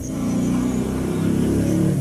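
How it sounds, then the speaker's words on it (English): A motorcycle passes beneath a balcony as a loud, steady engine rumble filling the whole moment, close by and dominant, with no talk over it. "That was a motorcycle passing under my balcony."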